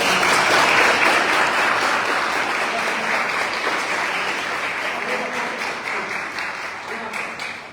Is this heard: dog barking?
no